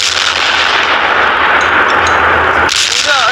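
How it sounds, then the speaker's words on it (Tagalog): Boga, a homemade firecracker cannon built from joined cans, fired at New Year: a sharp loud blast followed by booming rumble, then a second report near the end, close and alone. "Ginawa lang namin to gamit yung pinagdugtong ng mga lata"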